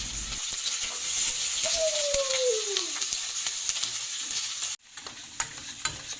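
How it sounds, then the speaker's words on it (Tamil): Onions fry in hot oil with spices for a side gravy, a steady close sizzle with stirring scrapes in the pan, briefly cutting off near the end before the frying resumes. "சைடுல வந்து கொஞ்சம் வெங்காயம்லாம் வந்து வதக்கிட்டு இருக்கறேன்"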